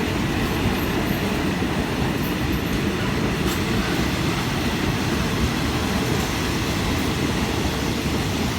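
Rapid train 171 on the Bangkok to Thung Song Junction service, hauled by a French-built diesel locomotive, arriving at Ban Pong station in Thailand: a loud, continuous rumble and roar of rolling cars heard close up, with no voices.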